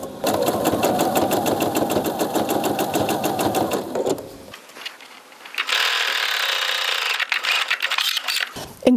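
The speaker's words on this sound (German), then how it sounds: "Ich setze auch immer erst eine kleine Rückwärtsnaht an, um das Ganze zu fixieren" A sewing machine runs a short backstitch along bias tape, fast steady needle rhythm for about four seconds, a brief pause, then a second burst of stitching, close and loud with no talking.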